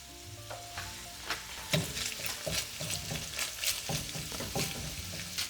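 Ground meat frying in its own fat with tomato paste for dirty cabbage, a steady sizzle broken by repeated spoon-stirring scrapes and clanks close up.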